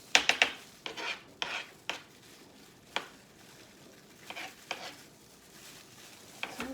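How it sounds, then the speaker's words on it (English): Fresh garden jalapeño peppers being chopped with a knife on a board, a series of sharp close taps, some in quick pairs, irregularly spaced with quiet gaps between. "I'm going to finally chop these up"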